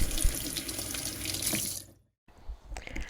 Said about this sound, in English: You definitely want to make sure you rinse it completely